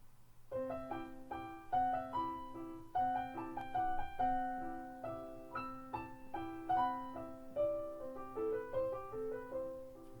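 A gentle solo instrumental waltz by Poulenc, likely piano, with a steady lilting three-beat accompaniment under a flowing melody, played softly and alone.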